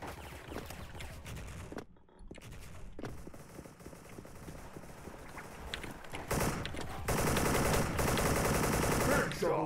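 In Special Force, an AK rifle sprays in rapid automatic bursts, dense crackling gunfire that drops out briefly near the start and then grows loud and continuous toward the end. No voices.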